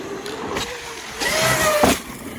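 Traxxas X-Maxx 8S RC car motor blipped in short electric whines mid-jump, a few quick rising tones over outdoor background noise, fairly faint.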